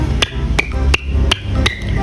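A toy hammer is struck five times in a steady, quick rhythm, each hit a sharp, close knock with a bright ringing tone behind it.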